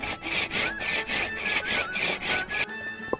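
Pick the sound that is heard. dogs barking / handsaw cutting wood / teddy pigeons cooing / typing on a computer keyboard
handsaw cutting wood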